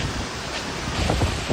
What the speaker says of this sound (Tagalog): Malakas na dagundong ng kulog na sinabayan ng ugong ng malakas na hangin at ulan.